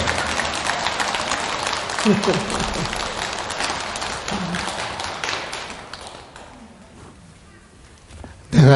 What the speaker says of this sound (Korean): 박수를 쳐줘야 돼